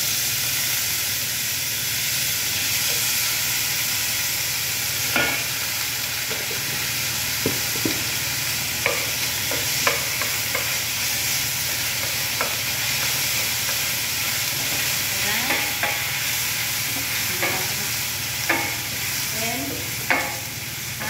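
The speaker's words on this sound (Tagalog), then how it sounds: "Sabi ko naman sa inyo guys, ginigisa ang rice dito" Rice sautéed with browned onions sizzles steadily in a pan, a constant frying hiss punctuated by intermittent clinks and scrapes of a spatula stirring.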